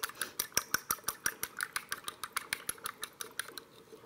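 An egg lightly beaten with a fork in a bowl, a quick steady run of close, crisp tapping clicks of metal against the dish, with no talking.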